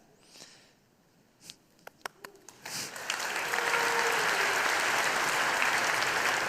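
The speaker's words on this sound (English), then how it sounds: "The applause is not for me, so for the Angular team, right?" At an Angular developer conference talk, a few scattered claps build quickly into steady, sustained audience applause that continues strongly to the end.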